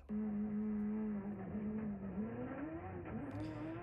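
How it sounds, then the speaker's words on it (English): Mitsubishi Evo 8 drag car making a quarter-mile pass with the clutch slipping, a loud, sustained engine roar holding a steady pitch, then wavering and climbing again as the clutch hooks up near the end, with no talk over it. "this is the pass with the clutch blowing loose, but we're getting it hooked up at the end."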